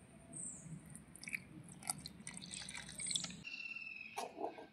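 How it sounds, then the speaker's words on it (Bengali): Water trickled bit by bit into a bowl of gram flour batter mixed with palm fruit pulp, soft wet drips and small splashes with a low steady rumble that drops away partway through. "আমি এখন অল্প অল্প করে জল দিয়ে দিচ্ছি।"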